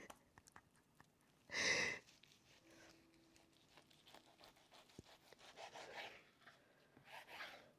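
A dull knife saws through meat tendon for barbacoa, giving close rough rubbing and tearing strokes, a short loud scrape early on, then a run of softer repeated sawing.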